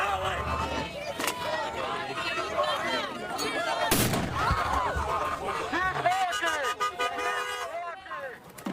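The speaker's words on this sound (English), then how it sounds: "That flashbang caused the crush of people to briefly scatter." A flashbang grenade detonates at a crowded protest with one sharp, loud blast standing out midway, surrounded by constant crowd noise, shouting and voices.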